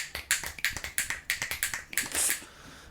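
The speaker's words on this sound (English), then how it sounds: "I got a pretty good snap" Fingers snap repeatedly in quick succession, about a dozen crisp close snaps in an uneven rhythm, loud and alone with no talk.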